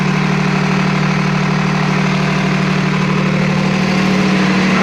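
A Kirloskar diesel generator runs loud and close with a constant low idling drone and steady mechanical vibration, unchanging from start to end.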